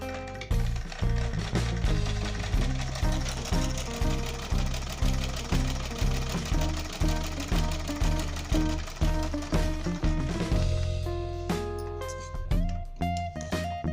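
An electric sewing machine runs in fast bursts of rapid rhythmic stitching, sewing a double line of stitches along a garment's crotch seam, with short pauses and a final change in pitch as the run ends.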